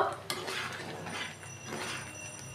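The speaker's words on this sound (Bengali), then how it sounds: "এখন একটু নেড়ে চেড়ে ভালো করে একটু কষিয়ে নেব" Soybean chunks being stirred and sautéed in a pan with a spatula, scraping and clinking against the metal in steady, close strokes under a faint sizzle, with no voices.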